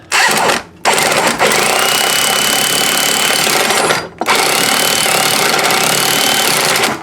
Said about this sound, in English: we're using the electric impact wrench